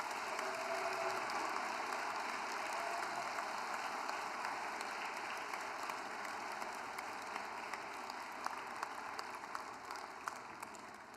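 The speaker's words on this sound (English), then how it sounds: "Everyone, a please big round of applause for your 2025 graduating student athletes" Sustained applause from a banquet crowd for graduating student athletes at a university athletics awards dinner, a steady wash of clapping lasting the whole stretch with occasional sharper claps standing out.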